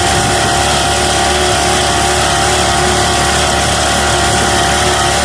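A Gutbrod Motostandard single-axle tractor engine runs steadily and close by, a constant droning rumble with no pauses and no voices.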